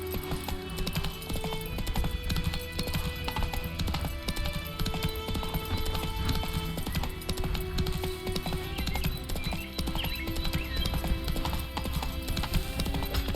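Roach the horse gallops in The Witcher 3, a steady stream of hoof clip-clop running the whole way under dense in-game music and ambience, with a brief whinny-like note in the mix.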